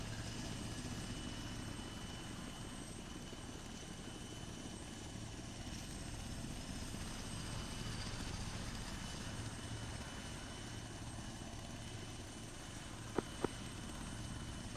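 A UH-1Y military helicopter on final approach to runway 04 right gives off a continuous rotor and engine drone, steady and fairly faint throughout, with a couple of brief clicks near the end.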